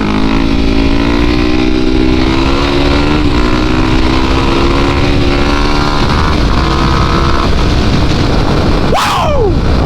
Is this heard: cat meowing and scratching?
no